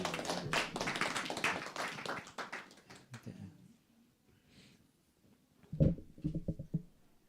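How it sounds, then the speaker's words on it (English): Audience clapping at an ISKCON temple Sunday program in Coventry, a fairly faint burst of applause lasting about three seconds that fades into quiet, followed by a few scattered knocks and movements. "Give him a round of applause."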